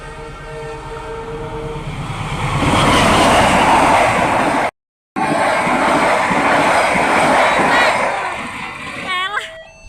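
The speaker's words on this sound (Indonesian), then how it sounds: "Kereta cepat ini." A CC206 diesel locomotive hauls a passenger train past at night. The horn sounds, then a loud rumbling roar of wheels and cars builds and holds close by, with people talking and calling out over it.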